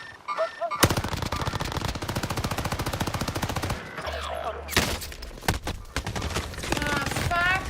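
Rapid automatic gunfire in the Warzone video game set in Caldera, long dense bursts of shots with a short pause and a deep rumble, then more firing, with a faint voice in the background.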